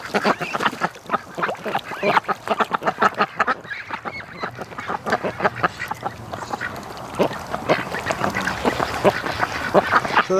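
Many ducks quack in a busy, overlapping chorus, steady and fairly close, with no talking.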